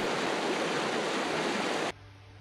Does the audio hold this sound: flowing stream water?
yes